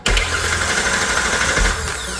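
A 2017 Kia Sedona starter cranks the engine in one loud, continuous churning run of about two seconds, close up, with a brief surge near the start and another near the end.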